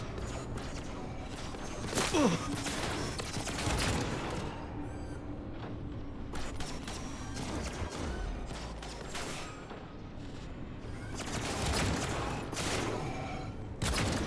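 Gunfire in the Cyberpunk 2077 video game, dense sharp shots and bursts over a busy rumbling game soundscape, loud and continuous with no talk.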